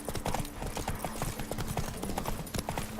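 Hooves of Roach, a horse in The Witcher 3: Wild Hunt, pound in a fast, steady galloping clip-clop, fairly close, with no speech over it.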